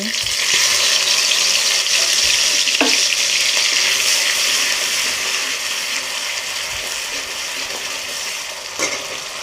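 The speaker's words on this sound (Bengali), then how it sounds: "এবং এই পেঁয়াজকে কিছুক্ষণ ভেজে নেব" Onion paste frying in hot oil with whole cumin for a Bengali tangra and baim fish curry, a steady loud sizzle and crackle that runs throughout, with occasional stirring clinks.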